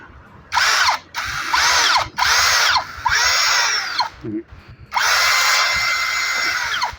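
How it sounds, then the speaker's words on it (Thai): A power drill whirs in several short bursts, pausing between each, then runs in one longer continuous stretch, loud and close, drilling a wire hole in a solar lamp. "ผมจะใช้สว่านนะ เจาะ รูเพื่อเอาสายไฟ"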